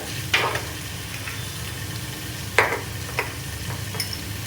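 Sliced onions fry for masala dosa, giving a soft continuous sizzle with a few sharp clinks and scrapes of stirring in the pan.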